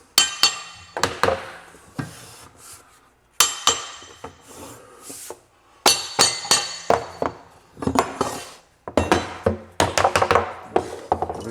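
A plank puller tapped against vinyl plank flooring beside kitchen cabinets, giving bursts of sharp metallic taps in quick rhythmic clusters, several groups separated by short pauses, loud and close.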